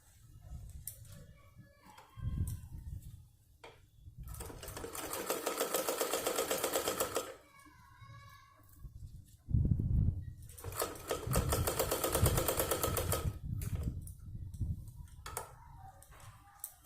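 A sewing machine stitches two pieces of a net doll dress bodice together, running in two long steady bursts of rapid needle chatter with quieter pauses between them.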